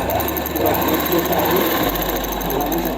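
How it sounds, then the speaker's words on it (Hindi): A sewing machine runs steadily, stitching elastic through the center of palazzo pants with an even, continuous mechanical whir that stays loud throughout. "पूरे में सेंटर में सिलाई लगानी है लास्टिक में"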